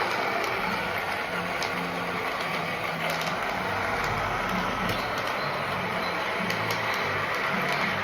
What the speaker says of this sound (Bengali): এটা ব্লেন্ড হচ্ছে।